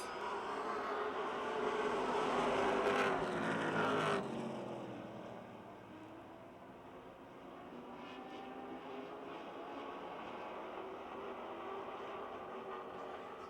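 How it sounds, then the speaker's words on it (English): Stock cars, including a Ford Taurus, race around the Motordrome Speedway oval, engines roaring loudly as a pack passes close by during the first seconds, then fading to a steady, more distant drone of cars circling the track. "Bobby Henry with more than 100 career feature victories leading the way in the Paula Grudo-owned number 11 Ford Taurus"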